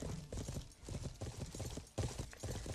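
Horse hooves clip-clop steadily at a riding pace in the medieval video game Life is Feudal, a continuous close rhythm of soft thuds with no talk over them.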